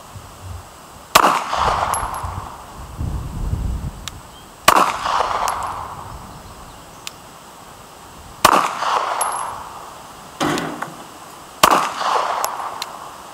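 Handgun shots fired at a target from 15 meters during a shooting drill, four loud sharp cracks spaced a few seconds apart, each with a brief echoing tail outdoors.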